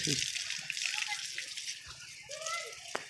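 Water flowing and splashing at a temple at Kapildhara, likely a tap or stream used for washing hands and feet, heard under close voices and children's chatter.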